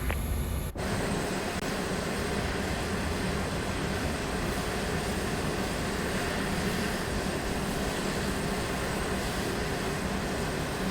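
A Fokker F70 jet engine runs as a steady, dense roar in a flight simulator, loud and continuous throughout after a brief click at the start, with no talking.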